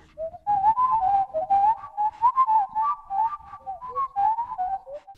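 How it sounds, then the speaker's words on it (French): A person whistles a wavering, melodic tune alone, the notes rising and falling in short phrases, close and clear. "je vais vous le siffloter tout de suite"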